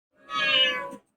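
One clear, drawn-out meow from a cat, loud and close, rising and then tapering off within about a second, alone without talk.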